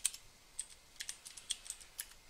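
Irregular clicks of typing on a computer keyboard during an Arch Linux install in VirtualBox, a steady run of light, close, crisp keystrokes with no talk.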